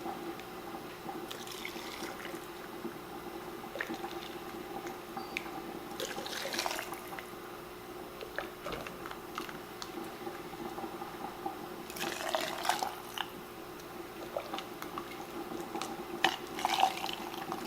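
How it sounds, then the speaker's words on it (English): Broth pouring into jars packed with chicken for Thai red curry canning, a steady liquid trickle and splashing with a few louder gushes near the end, no talk. "Cover with our broth."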